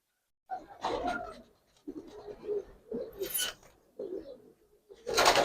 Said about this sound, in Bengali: আরেকটা নর কবুতর